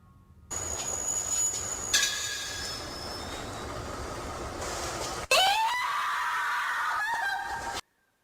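A female reporter screams in horror in a Japanese ghost video: shrill, sustained cries in two long bursts over a noisy background, growing louder and more piercing near the end before cutting off.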